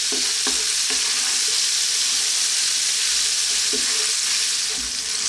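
A bacon pasta sauce cooks on vigorous high heat, giving a loud, dense, unbroken sizzling hiss with a few faint clicks of a utensil against the pan, heard close and without talk.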